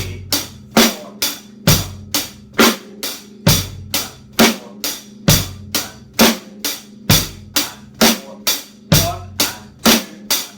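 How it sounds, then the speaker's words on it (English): Drum kit playing a basic rock beat for a lesson, steady repeating pattern of kick and snare hits with hi-hat running through, close and loud, no voice over it. "The drum kit rhythm would sound like this."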